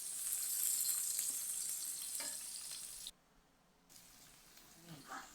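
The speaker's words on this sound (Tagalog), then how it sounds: "gisan natin yung bawang. Sunod na rin natin yung sibuyas." Garlic and onion sauté in hot oil in a wok, a loud close crackling sizzle that suddenly drops to a quieter fry partway through.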